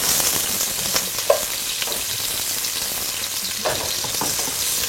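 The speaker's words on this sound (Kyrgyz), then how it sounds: "Биринчи пиязды курган жакшы көрөм мен." Chopped onion fries in hot oil in a kazan, a dense, steady sizzle with a few sharper crackles and stirring scrapes, close and with no talking.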